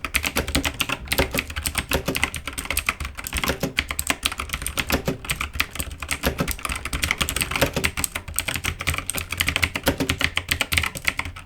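Fast, continuous clacking of mechanical keyboard switches, an even stream of crisp keystrokes at moderate volume with no voices.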